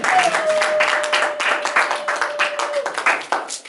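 A church congregation applauds in a dense, steady wash of clapping that runs the full length, with a held keyboard-like tone and a murmur of voices underneath.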